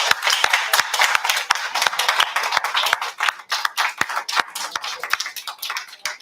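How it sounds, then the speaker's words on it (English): A crowd of school district staff at a school board meeting claps in the background, a dense, sustained patter of many hands at moderate distance with no talk over it. "Those folks that are in the background clapping, many of them are staff members within the school district."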